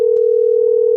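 A steady telephone line tone on an outgoing call, loud and continuous, with a brief click near the start and no voices.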